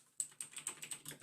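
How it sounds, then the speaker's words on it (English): Rapid typing on a computer keyboard, a quick irregular run of light clicky keystrokes, faint and close, with no voices over it. "Ghost is typing furiously in the background."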